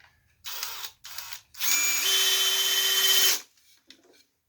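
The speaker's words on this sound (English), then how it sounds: "So I've got to drill a hole here and tap some threads so we can put this thing all together." A power drill bores into a brass candlestick in short bursts, then one long steady run with a rising whine, loud and close with no talking.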